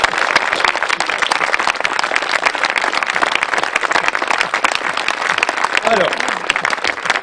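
Dense, continuous applause from an audience at an outdoor art event in the park of a manor in Mamers, many hands clapping steadily throughout with a voice briefly heard within it.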